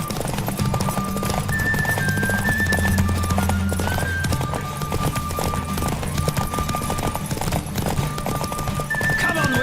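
Steady clip-clop of galloping hooves in The Witcher 3: Wild Hunt over a loud continuous music bed, with a few whinnies and synthetic tones on top.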